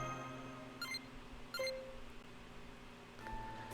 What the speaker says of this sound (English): Ah, that's our alarm.